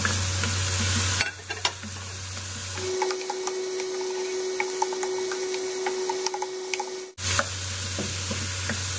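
Chicken pieces being sautéed with tomato in a pan for a gourd stir-fry, continuous sizzling with frequent spoon scrapes and clicks of stirring, a steady tone and hum in the middle stretch.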